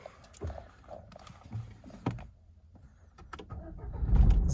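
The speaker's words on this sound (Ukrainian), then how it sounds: "заводиться автомобіль з півоберту" A Renault Megane 3 sits with a few scattered clicks and knocks before its engine catches near the end and fires quickly into a loud, low rumble.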